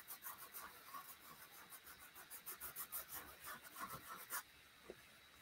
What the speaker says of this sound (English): So let me just real light with the sandpaper,